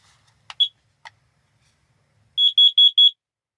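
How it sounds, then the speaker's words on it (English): Carbon monoxide detector inside a van: two or three isolated chirps and clicks, then a close, loud run of four evenly spaced electronic beeps in quiet surroundings. "I do have a carbon monoxide detector"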